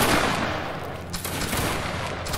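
A musket volley in a Napoleonic Wars battle game: a dense, loud crackle of many shots fired at once, followed by scattered lighter pops and rumbling battlefield noise.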